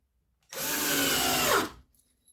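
A small, nine-year-old cordless drill driver from 2014 spins up close by in a single steady run of about a second, then stops, with its pitch sliding slightly near the end.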